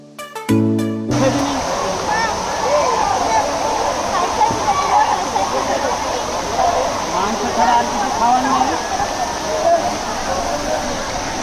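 Shivani Waterfall at Nerul in Navi Mumbai pours in a steady, loud broadband roar of falling water that continues without a break, opening with a short burst of musical tones during monsoon rain.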